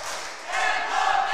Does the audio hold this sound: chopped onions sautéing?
no